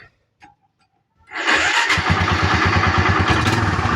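A Barako motorcycle engine with a recently worked-on carburetor starts after a quiet moment and settles into a loud, close idle. The idle has an uneven, stumbling pulse from misfiring, and no one talks over it.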